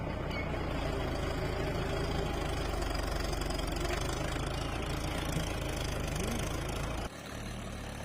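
A tractor engine runs in a farm field, a steady, loud, throbbing idle with a knocking rhythm that holds unchanged throughout before dropping slightly in level near the end.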